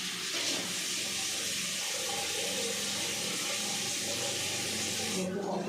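Tap water runs steadily and loudly as a tomato and an onion are rinsed under it for salad, a continuous hissing splash from start to finish.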